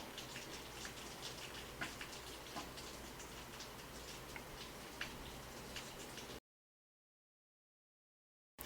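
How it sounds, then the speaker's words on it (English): Soft, steady rain patter with scattered drip ticks for several seconds, then silence. "Sorry if you can hear the pitter-patter of rain outside."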